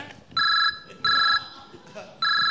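A mobile phone rings during a comedy sketch set on a train, three evenly spaced electronic trill bursts, loud and close, with short gaps between them.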